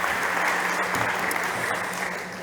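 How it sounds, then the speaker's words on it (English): Steady applause from an audience at a fintech startup competition stage, a dense even wash of clapping lasting throughout without a break. "So big applause for Fernando"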